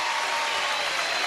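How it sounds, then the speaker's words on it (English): Studio audience applauds five young men, a brief, steady burst of dense clapping with no gaps. "How about a round of applause for these fine young men?"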